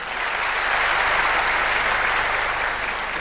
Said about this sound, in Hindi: आपकी भरपूर तालियों में हम मकसद करेंगे कर्नल हमीद अफजल साहब को।